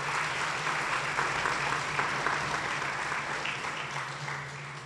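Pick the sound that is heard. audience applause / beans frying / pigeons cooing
audience applause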